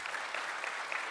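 Dense applause from a live talk show crowd, many hands clapping steadily throughout with no pauses.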